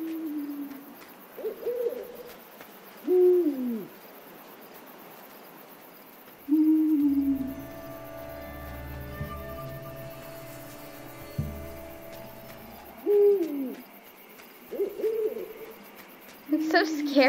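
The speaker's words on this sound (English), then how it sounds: "There's another owl." An owl in the video game Endling hoots repeatedly in short, spaced calls, fairly close, over a faint night ambience with crickets and a low rumbling passage in the middle.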